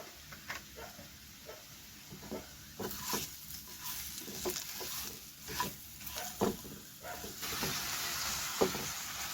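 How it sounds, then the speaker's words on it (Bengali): Chicken cooked down with spices and ground black pepper in a pan, with a steady soft sizzle and frying hiss broken by repeated scraping stir strokes, close and moderately loud. "সব মশলাগুলো দিয়ে আমি ভালো করে এটাকে কষিয়ে নিলাম"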